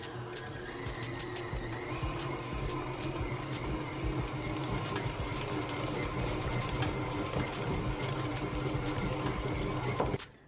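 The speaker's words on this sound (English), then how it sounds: "Now I'm gonna let the machine do the work and knead it for me." Stand mixer fitted with a dough hook kneading homemade Portuguese bread dough, a steady, loud motor whir with rhythmic knocking that runs continuously for about ten seconds before cutting off.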